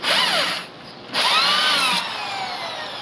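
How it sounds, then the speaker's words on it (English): A power drill bores a hole through a piece of styrofoam, whining loudly in two close bursts with a brief dip between them, then easing to a steadier, quieter run. "Drill a hole in it."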